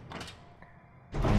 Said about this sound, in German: Eine Tür.